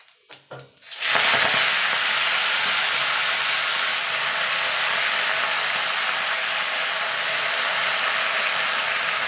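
Panch phoron whole spices hit hot oil for cooking spinach: a few quick crackling pops, then a loud, steady broadband sizzle that holds evenly without pause.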